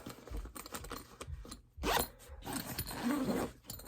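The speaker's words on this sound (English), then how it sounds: "It does have 2 zippers on the big one" A zipper being pulled on a Rothco backpack, with several close, rasping zip strokes of varying length separated by brief pauses and light handling noises.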